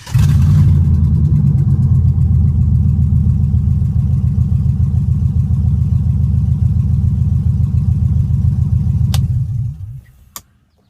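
An LSX V8 swapped into a BMW runs steadily with a loud, close, even engine rumble that holds for most of the clip before cutting off near the end, followed by a couple of faint clicks.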